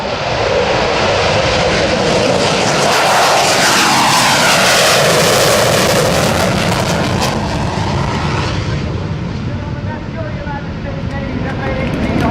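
An F/A-18C Hornet at an air show open house bolters and powers up to go around, its jet roar loud and sustained, swelling then slowly easing with a whine shifting through the sweep, while an announcer talks over it.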